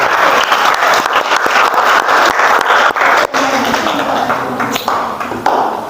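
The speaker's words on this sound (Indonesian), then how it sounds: "Kita beri tepuk tangan pada kelompok yang sudah presentasikan." Classroom applause for a student group after their presentation at an Indonesian university, dense sustained clapping from many hands throughout, loud and close, with no pauses.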